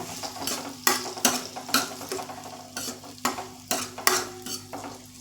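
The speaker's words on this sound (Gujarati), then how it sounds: "મેં આમાં બટેકા ઉમેર્યા છે. અને આપણે બરાબર હલાવી લઈશું." A spoon stirs a cauliflower and potato curry in a pan, scraping and clinking in a series of spaced strokes over a soft sizzle, close and fairly quiet.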